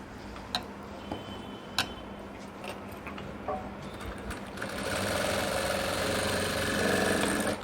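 Sewing machine stitching seams on a skirt, a steady mechanical whir with faint ticking at first, growing louder and more continuous in the second half, with no voices.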